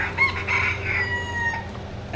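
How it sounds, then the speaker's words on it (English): A rooster crows in the distance near the southernmost point in Key West, amid steady outdoor background noise, the call drawn out and fairly faint. "The rooster."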